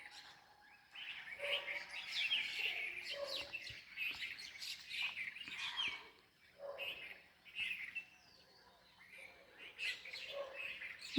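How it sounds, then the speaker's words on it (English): A flock of more than fifty birds chirps and sings among red-flowering trees, overlapping bright tweets and calls in bursts separated by brief quiet gaps, fairly close and clear with no talk. "we can see the birds moving around, flying here and there, singing with joy."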